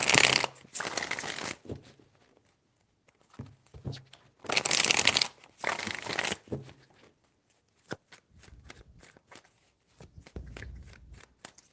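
A tarot deck is shuffled up close in three brisk riffling bursts, separated by pauses filled with light taps and soft card handling.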